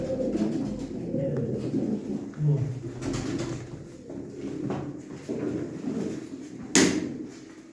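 Racing pigeons from Mardin Kızıltepe coo softly and steadily in the background at a live auction, with low murmuring and a brief clatter near the end.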